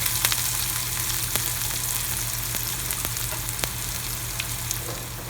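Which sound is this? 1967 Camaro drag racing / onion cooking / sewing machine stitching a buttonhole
onion cooking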